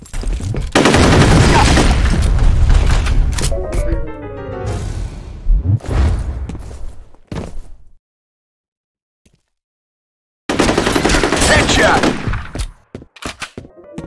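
Grenade blast and gunfire in the shooter game F.E.A.R.: a loud burst of rapid gunfire and crashing impacts for several seconds, then sudden silence, followed by another dense volley of shots.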